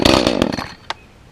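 An Echo CS-310 chainsaw on choke fires up with a rough burst of engine revving, then cuts out. A single short sharp sound follows a moment later.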